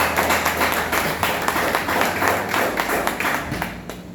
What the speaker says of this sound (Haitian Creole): nous applaudissons encore chaudement au Millet